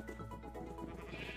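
A sheep bleats in the Minecraft video game, one short, wavering bleat at moderate volume with no talk over it.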